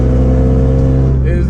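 Car engine fitted with an added header revving, a loud close raspy exhaust drone with strong low harmonics that holds steady then shifts slightly at the end.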